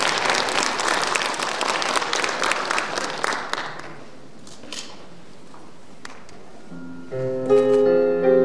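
Audience clapping at a forum opening ceremony welcoming the Little Angels performers, dense applause that thins and fades out midway, then an instrumental tone rises near the end.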